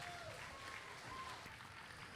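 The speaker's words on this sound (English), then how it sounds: "please give these kids a big round of applause real quick" Applause from the audience at a market barrow livestock show in San Antonio, a steady, fairly faint wash of clapping with crowd noise and a few brief whistles or voices mixed in.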